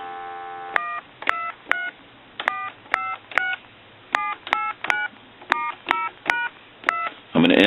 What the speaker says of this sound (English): we'll go ahead and dial our numbers